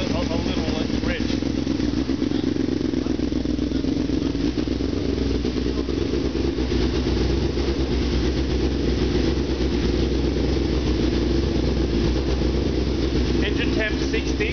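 Car engine idling on its second run after a radiator hose fix, a steady low rumble and drone that stays constant throughout, with someone talking over it.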